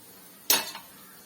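A metal utensil lifts fried chicken cutlets out of a pan, making a single brief clattering scrape and clink, close by and alone in a quiet kitchen.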